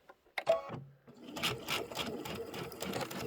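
A sewing machine back-stitches a seam on a tote bag, starting with a few short hesitant stitches and one faint hum, then settling into a steady, close run of rapid needle clatter.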